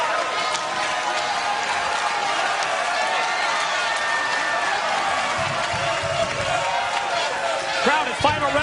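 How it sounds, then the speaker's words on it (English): Wrestling arena crowd at a TNA tag team title match applauding and cheering steadily throughout, a dense, loud wash of clapping and voices with no clear pauses. "Crowd at final resolution, showing their appreciation for these 2 tag teams"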